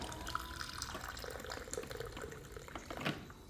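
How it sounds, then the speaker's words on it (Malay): Hot water is poured over a single split chili, giving a steady, faint trickle and splash of liquid that runs for a few seconds with no voices. "Cili belah ni satu biji kita becek air panas masuk."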